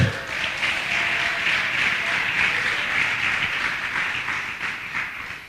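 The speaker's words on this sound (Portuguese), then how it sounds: "Aplauda o Senhor e se coloque de pé" A church congregation applauding, sustained dense clapping that holds steady and fills the space for several seconds without a break.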